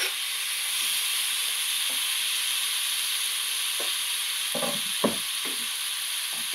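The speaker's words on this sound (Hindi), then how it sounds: "अब मैं इसमें डाल रही हूँ कटे हुए टमाटर" Chopped tomatoes tossed into potatoes frying in a pan give a steady bright hiss and sizzle, with a few soft clinks and stirring knocks toward the end.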